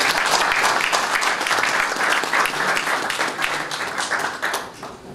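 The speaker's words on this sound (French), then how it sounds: "Nous applaudissons aussi sa présence." Sustained applause from an audience filling a hall, dense continuous clapping that stays loud throughout and eases slightly toward the end.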